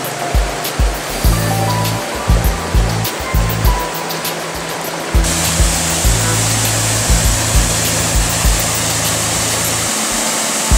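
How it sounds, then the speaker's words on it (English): A forest creek along the Lewis Creek Trail in Madera County murmurs steadily, a continuous broadband rush of flowing water that stays fairly loud and close throughout. "The creek's murmur brings calm."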